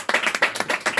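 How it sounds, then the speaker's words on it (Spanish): A church congregation in Baranoa, Atlántico, Colombia claps hard in quick, rhythmic bursts, loud and close, with no talking over it. "Dale fuerte aplauso que es para el Señor."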